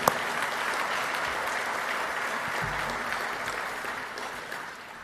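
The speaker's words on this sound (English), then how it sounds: "Let's give them a round of applause." A luncheon crowd at an annual Dallas benefit applauds community partners with a full, steady round of clapping that fills the room and tapers slightly toward the end, with no talk over it.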